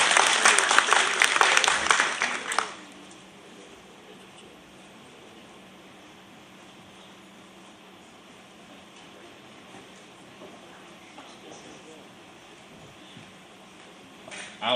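Concert audience applause for music students at a high school spring concert, loud and dense for about two and a half seconds, then cutting off into a quiet hall with faint murmur until a brief swell at the end.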